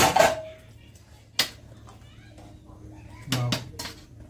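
Metal pot lid lifted off khichuri cooking on the stove, giving a sharp clank at the start followed by a few lighter metallic clinks and rattles in a quiet kitchen.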